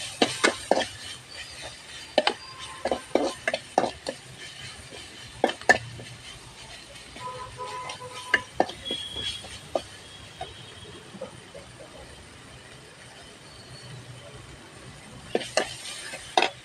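Tomatoes sautéing in a pan for a homestyle eggplant curry, with a soft steady sizzle broken by scattered sharp clicks and scrapes of a spoon stirring against the pan, quieter toward the middle and busier near the end.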